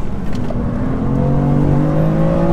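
A BMW M3 family saloon on a karting circuit, its engine revving steadily and climbing in pitch under light throttle through a corner, loud and close with a continuous whirring drone and no voices.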